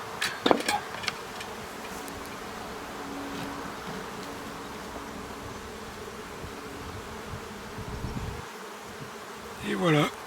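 Honey bees hum steadily around an open hive in spring, a dense, continuous buzz close by with brief louder passes of individual bees and a few scraping knocks near the end.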